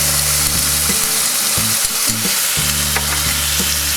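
Spices for a tempering fry in hot oil for a Bengali dahi prawn dish, giving a loud, steady sizzle with occasional stirring scrapes throughout, no voices.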